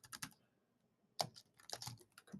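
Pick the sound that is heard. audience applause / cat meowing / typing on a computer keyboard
typing on a computer keyboard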